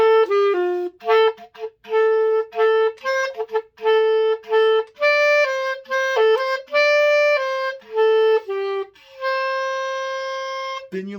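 Solo clarinet plays a syncopated passage from the Clarinet 1 part of a song, short detached notes in an off-beat pattern ending on a long held tone, close and clear with no talking.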